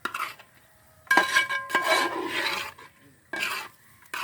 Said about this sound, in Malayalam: അപ്പോൾ ഒന്ന് ഇളക്കി നമുക്ക് റെഡിയാക്കാം.